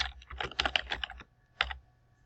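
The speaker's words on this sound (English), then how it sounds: "Type in your name." Keystrokes on a computer keyboard as a name is typed into an iPad cart calendar reservation form, a quick burst of close, clicky taps followed by a pause and a final short cluster of keys.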